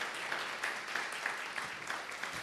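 Church congregation applauding during a sermon, a steady wash of clapping from many hands, moderately distant and continuous without voices.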